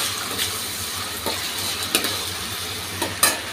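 Silver carp and vegetables are stirred in a sizzling pan, with a steady fry hiss and a few scraping knocks from the spoon at irregular intervals. No voices are heard.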